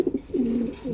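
A racer pigeon gives a brief low cooing call, a couple of soft pulses rolling into a longer throaty coo, close and alone.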